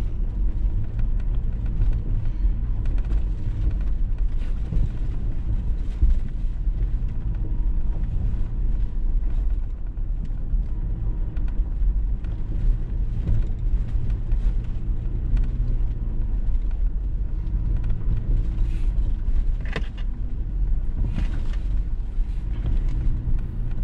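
Off-road truck on street-pressure tires rolling over a bumpy Georgia trail, a steady low rumble of engine and drivetrain with constant rattling and thumps from the cabin, heard from inside, continuous and without talk.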